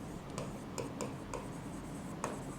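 Marker or chalk writing on a board while a physics problem on AC circuits is worked out, giving soft, close scratchy strokes and taps in an irregular rhythm over a low room hum.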